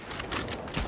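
Gunshots ring out in Red Dead Online, two or three sharp cracks within a second, close and moderately loud.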